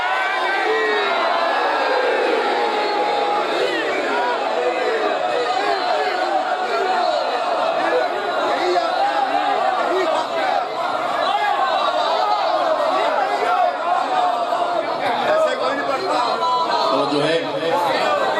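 A large crowd at a Muharram majlis gathering roars back a religious slogan in unison, a dense, sustained wall of many voices shouting and cheering that stays loud and even throughout.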